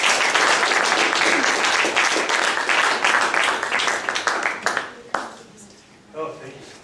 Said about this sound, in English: give him a warm round of applause on his birthday